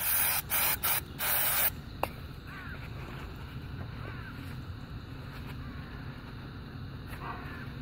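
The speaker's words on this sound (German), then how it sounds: "Im Idealfall nimmt man dazu auch noch ein bisschen Bremsenreiniger, sprüht das Ganze hier einmal so ein." Brake cleaner sprayed onto a chain during a chain change, four short, loud hissing bursts in quick succession, followed by a quieter stretch of faint rubbing and background noise.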